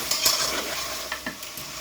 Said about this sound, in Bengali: মশলাটা আর আলুটা একটু কষিয়ে নিচ্ছি।